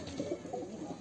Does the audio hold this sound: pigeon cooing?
yes